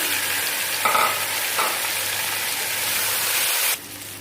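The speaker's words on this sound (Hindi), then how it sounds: "गोश्त को जो है वो मैं अच्छे तरीके से इन प्याजों के साथ भून लूँगी" Meat sizzles loudly with browned onions in a hot pan for an Afghani Kabuli pulao, a steady close hiss with a couple of stirring scrapes before it cuts down sharply near the end.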